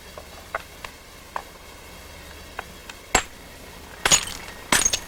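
Sharp stone-on-stone knocks while striking a flake off a novaculite blank: a few light taps, then several louder cracking strikes with glassy clinks near the end, close and without speech.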